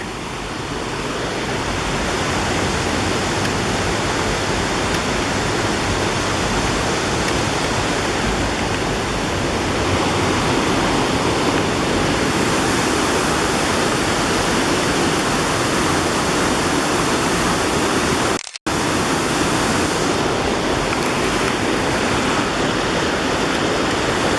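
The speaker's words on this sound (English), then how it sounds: "And here's the waterfall right over here." A waterfall near a dam in the Saluda and Tryon area of North Carolina roars loudly and continuously as a dense, steady rush of falling water, with one brief dropout near the end.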